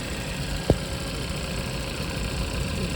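A Hyundai Tucson 1.6 turbo petrol engine idles smoothly and steadily at close range, a low even rumble with one brief knock near the start.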